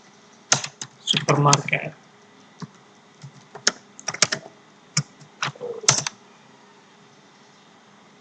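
Keystrokes on a computer keyboard come in scattered clicks and short rapid bursts while a person speaks quietly in between, followed by a few seconds of near silence.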